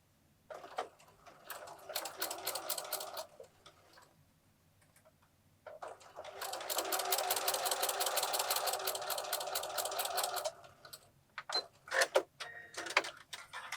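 Sewing machine stitching a quilted place mat along a marked line, with short runs of rapid ticking followed by a longer steady stretch and a final stuttering burst, all fairly quiet and close.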